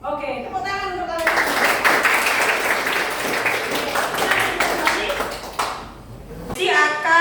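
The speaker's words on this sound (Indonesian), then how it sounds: "Oke, tepuk tangan untuk kalian" A classroom of students claps for several seconds, a dense burst that starts abruptly and ends sharply near the close, with a teacher's voice speaking before and after.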